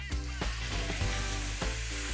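A tablespoon of butter melting in hot bacon fat in a pan gives a steady, loud, close sizzle with crackling pops throughout, no talking.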